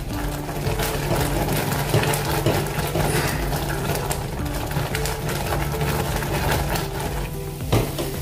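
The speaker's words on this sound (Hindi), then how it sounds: "ऐसे चम्मच से हिलाते रहिए, नहीं तो जो पाउडर है अपना मिल्क पाउडर वो नीचे बैठ जाएगा और जल जाएगा" A spoon keeps stirring a thick milk powder and coconut mixture in a pan, making a steady, dense scraping and churning close up, with occasional clacks against the pan and no talking.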